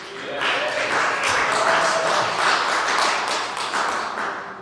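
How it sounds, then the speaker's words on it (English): Crowd at a live SEO conference session cheering and clapping for Greg, a dense, steady wash of applause with scattered voices and whoops lasting several seconds. "I'm going to ask you to cheer for Greg, Andy, Pete, or me, David"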